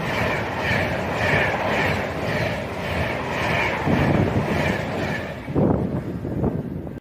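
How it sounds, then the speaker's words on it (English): Avanti West Coast Class 390 train passing at Berkswell on the West Coast Main Line, a rushing rumble with rhythmic pulses and wind buffeting on the microphone, fairly close and continuous, ending in heavier thuds. "Coming the other way for Avanti West Coast, we should see the pass of 390 114 with 9 Mike 50 from Edinburgh to"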